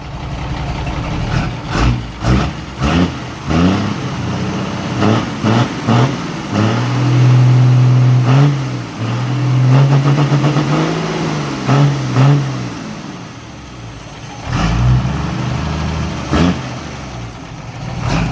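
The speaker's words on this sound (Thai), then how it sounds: "ติดเครื่องแล้วเป็นที่เรียบร้อยนะครับ ี๋ยวมาลองฟังเสียงกันนะ" A ten-wheeler truck engine with a modified exhaust and no muffler idles with a deep, throaty rumble, blipped by repeated revs and one longer rising rev, close and loud.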